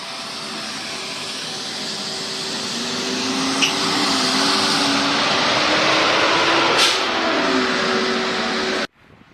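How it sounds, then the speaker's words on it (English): A street cleaner runs along a city street in Montreal's Ville-Marie borough, a steady loud mechanical drone with a whine on top that holds for several seconds and then cuts off abruptly. "It is a street cleaner."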